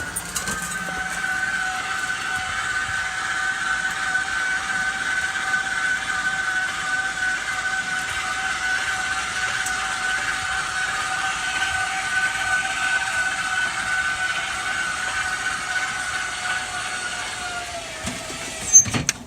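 RV stabilizer jacks retracting: a steady mechanical whine with a sustained tone runs nearly unchanged for about seventeen seconds, then winds down and stops with a small clunk at the end.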